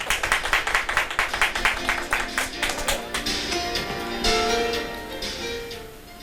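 An audience at an everyday sharing-ideas contest applauds to welcome a presenting team, opening with crisp, evenly spaced claps that thicken into a denser patter before fading under a steady tone.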